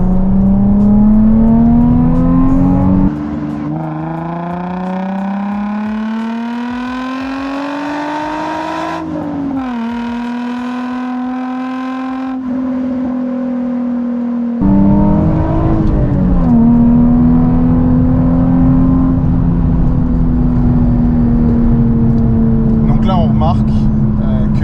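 A Nissan 350Z coupe accelerates hard through the gears, its engine climbing in pitch, dropping at each shift, then pulling strongly again from around 4000 rpm, loud and close throughout.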